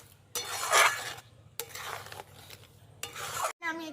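Raw green mango pulp cooked down with sugar, pepper powder and chili flakes is stirred in a pan, giving three separate bursts of scraping and stirring, each lasting about a second, close and fairly loud, with no one talking.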